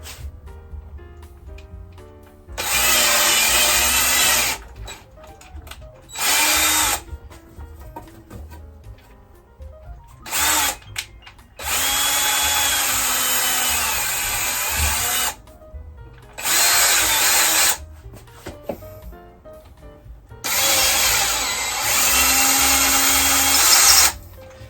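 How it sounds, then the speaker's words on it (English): A power drill drives a screw into wood while building a distressed rustic blanket ladder. It comes in several loud, close bursts of whirring, a few seconds each, separated by short pauses, with no talking. "I'm not going too deep, just enough so I can get the screw"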